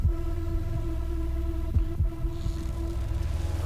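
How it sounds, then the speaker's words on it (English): A heartbeat-like low thump in the bridge of the rock song "There's Fear In Letting Go" by I Prevail pulses steadily under a sustained synth drone and faded drums. "We have like the heartbeat"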